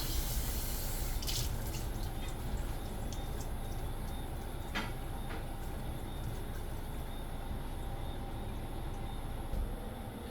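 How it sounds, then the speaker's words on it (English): Tap water runs steadily into a sink as water spinach (kang kong) is rinsed, a constant broad hiss and splash with a few brief clinks, fairly quiet and continuous throughout with no talking. "So after soaking the water spinach for 5 minutes, I give them an extra rinse."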